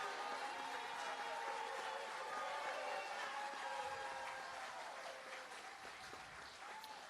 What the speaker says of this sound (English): Would you give him a round of applause as he's joined us?